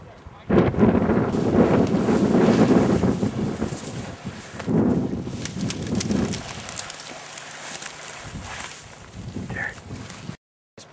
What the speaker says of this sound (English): Dude, the wind is terrible.